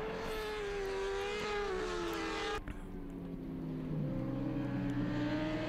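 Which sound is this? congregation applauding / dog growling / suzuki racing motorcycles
suzuki racing motorcycles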